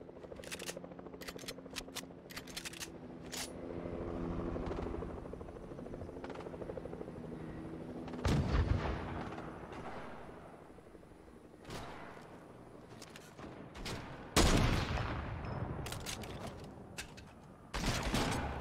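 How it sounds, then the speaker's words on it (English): Gunfire in Fortnite comes in sharp bursts and scattered shots, fairly loud, over a steady droning engine-like whir from the game. "And my cousin now is shooting him."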